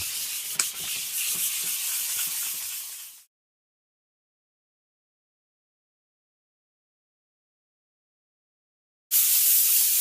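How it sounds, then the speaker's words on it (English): A burl wood table is hand sanded with 150 grit sandpaper, giving close, steady scratchy rubbing for about three seconds, then silence until the sanding resumes at the end. "So this is 150 grit sandpaper."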